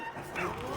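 Several dogs bark and yip aggressively during a canine aggression rehabilitation session, a short, busy burst of overlapping barks with a whimpering edge, close and fairly loud.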